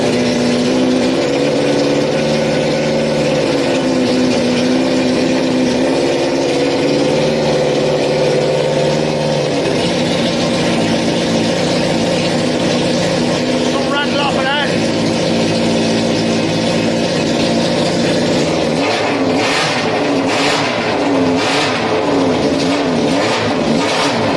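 A newly built drag bike engine runs loudly and steadily throughout, with revs rising and falling and a few sharp throttle blips near the end.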